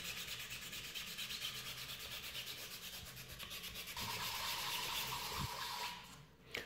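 Sanding on the surface of a 3D-printed scale model, a steady, close scratchy rubbing that runs continuously with a slight shift in tone partway through, no talking over it.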